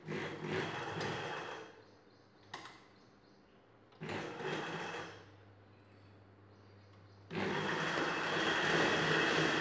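A sewing machine stitching a blouse waist belt at a joint, running in a few short bursts with pauses between, then one longer steady run, close and fairly quiet, with no talk over it.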